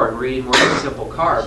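One brief, abrupt sneeze bursts out in the middle of a person's steady speech, close and loud, then the talking carries on.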